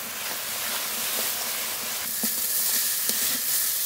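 Spice paste with mustard-poppy paste sizzling steadily in oil in a pan, a broad close hiss with occasional stirring scrapes and pops, no voices.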